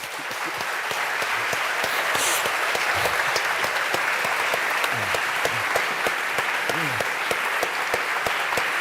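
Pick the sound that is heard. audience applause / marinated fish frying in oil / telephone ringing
audience applause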